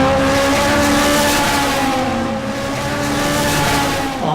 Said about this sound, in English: The noise is part of it. The terrific acceleration of the cars.